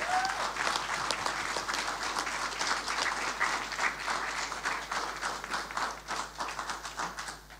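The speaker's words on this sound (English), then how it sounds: "I have to wait till you clap because you all had your hand up" An audience at a Taekwon-Do federation launch event applauds steadily for several seconds, a dense wash of many hands clapping at moderate distance, with no speech over it.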